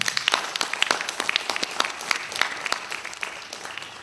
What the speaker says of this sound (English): Give Dennis a round of applause.